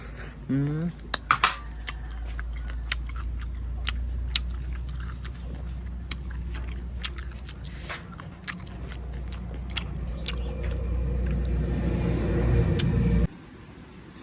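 Someone bites and chews crispy skin from spicy stir-fried wild boar, with repeated crunchy bites up close and the odd clink of dishes and cutlery over a low background rumble.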